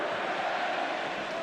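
Indiana Hoosier fans roaring and chanting in a packed stadium at a college football playoff game against Notre Dame, a steady, dense wash of distant crowd noise with a faint sustained vocal tone running through it.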